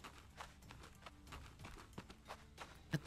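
Footsteps in the Orebound video game thud in a steady walking rhythm, faint and close, with a sharper knock near the end and no talking.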